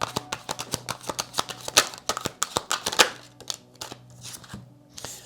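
Playing cards being shuffled by hand, a quick run of crisp riffling snaps and taps that slows and thins out toward the end, close and fairly quiet, with no speech.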